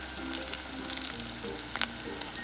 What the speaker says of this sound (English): Look at that frying. Intense empanada frying.